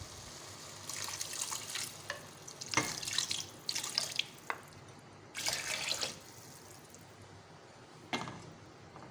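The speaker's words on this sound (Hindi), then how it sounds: "अब हम इसमें ऐड करेंगे पानी।" Water splashes and pours in several separate bursts into a pot of fried mixed lentils for dal, sounding near and moderately loud, with short quiet gaps and dripping between pours and no talking.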